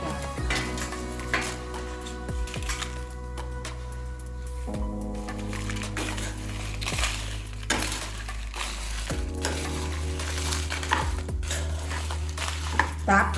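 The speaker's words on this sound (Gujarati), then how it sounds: "હવે આપણે એમાં છેલ્લે સૂકા લાલ મરચાં ઉમેરીને હલાવીએ." Dried red chillies are stirred into a spice mix roasting on low heat in a pan for dry onion-garlic chutney. Soft scraping and clinks from the pan sit over a steady background hum.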